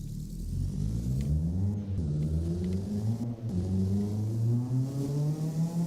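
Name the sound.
car engine revving on a dyno in the video game Apex Point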